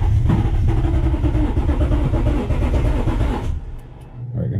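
Loud, close engine rumble from a Toyota Tacoma fitted with a 3UR V8, running steadily as the gas pedal is pressed and then easing off near the end.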